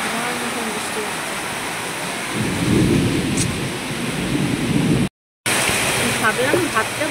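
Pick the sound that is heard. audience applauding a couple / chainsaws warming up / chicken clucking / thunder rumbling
thunder rumbling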